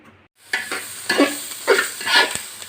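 Mixed vegetables fry in a pan, with a sizzle that starts after a brief silence and rises in several bursts as a spoon scrapes and stirs them, heard up close with no voices.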